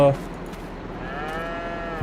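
Cattle mooing in the farming game Farming Simulator 22, near a manure-filled barn pen: one low bellowing moo swells up in the middle, with the end of another moo before it and the start of a third after, no talk.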